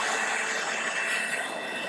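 Milwaukee cordless battery-powered leaf blower running steadily at full speed near a 2017 C7 Corvette Stingray being dried, giving a constant loud whooshing whine with no pauses.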